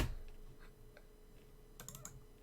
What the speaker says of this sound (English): It's because I was typing again.